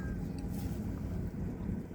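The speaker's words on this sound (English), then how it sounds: "oh, there's the poop boat" A steady low rumble of a boat engine passes on the water, with wind buffeting the microphone throughout.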